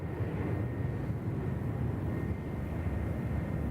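A Qantas airliner arriving from London to land at Sydney Airport, a continuous distant jet engine rumble and roar, steady and fairly loud, with no talking.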